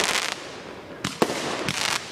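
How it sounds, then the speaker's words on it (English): Fireworks go off at home: a few separate crackling, hissing bursts, near and moderately loud, arrive at an irregular pace with short quiet gaps between them. "Like to be a professional industrial fireworks. These pyrotechnics."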